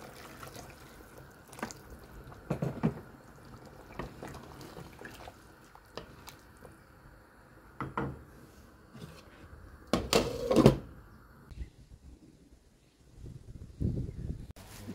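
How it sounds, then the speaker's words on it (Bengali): Water is poured into a pan of fried-down curry in a home kitchen to make the gravy, giving a quiet splashing trickle with a few sharper clatters and pan knocks, no talking. "এখন একটু ঝোলের জন্য পানি দিতেছি শুধু।"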